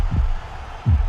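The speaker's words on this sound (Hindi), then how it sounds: "दिल की धड़कनें बढ़ी हुई हैं सीएसके के सभी फैंस की।" A heartbeat sound effect plays during an IPL cricket match broadcast: two heavy, low thumps about three-quarters of a second apart, loud and close over a faint hum.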